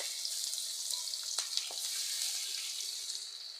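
Crushed ginger and garlic sizzle steadily in hot oil in a pan while a fish curry is being cooked, making a bright continuous frying hiss with a few soft stirring clicks.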